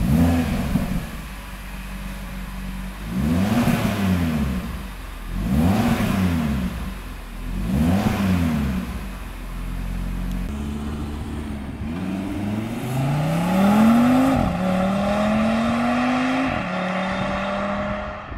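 The exhaust of a 2022 Audi RS3 sedan with a 400 PS engine, fitted with an exhaust flap and a particulate filter, blips through four sharp revs, then pulls away in a loud, rising acceleration through the gears.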